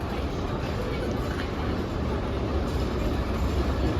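A continuous low rumble of a night train car rolling from Kyiv to Lviv, with rattling and clatter throughout and muffled voices faintly under the noise.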